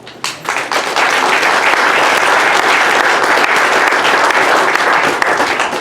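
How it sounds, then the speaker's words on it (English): Loud, sustained applause from an audience at a baccalaureate ceremony, a dense crowd clapping that starts after a brief quieter moment and holds steady. "So give yourselves a round of applause"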